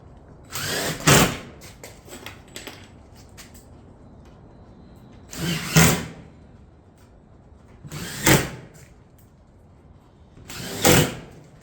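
Four short, loud bursts from a power drill or nail gun fastening a Granite Ridge shingle hip panel on a roof, spaced several seconds apart, with quieter handling noises between them.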